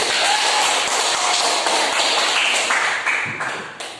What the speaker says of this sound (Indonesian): Baik, kita berikan tepuk tangan dulu.